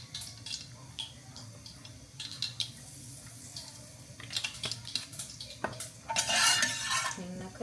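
A spoon mixes roasted garam masala spices in a cooking pan, with light metal clinks and scraping strokes that build to a busier burst of clattering near the end, close and moderately quiet, without speech.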